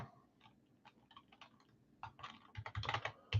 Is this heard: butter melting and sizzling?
no